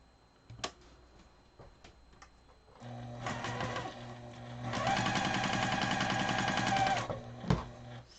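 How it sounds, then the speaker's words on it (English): A sewing machine stitches 3 by 3 quilt block squares together for coasters, starting with a few soft clicks, then running in a steady close mechanical whir that picks up speed and grows louder before it stops with a clunk. "So we'll sew these 3 by 3 squares"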